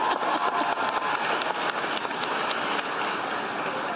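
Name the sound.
audience applause during Harris speech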